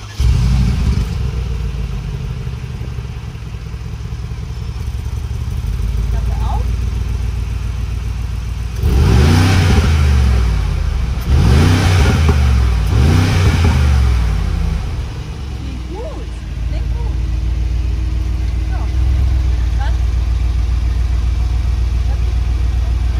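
A Mercedes-AMG G63 idles with a low rumble, then roars through three sharp revs in quick succession, each blip rising and falling before it settles back to a steady idle.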